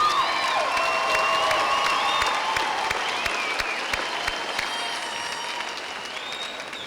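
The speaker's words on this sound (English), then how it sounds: "you ought to be applauding these people for all their support that they've provided you throughout the years." A large crowd at a college commencement ceremony applauds continuously, a broad, steady clapping heard from some distance, with faint cheers and scattered voices woven through it.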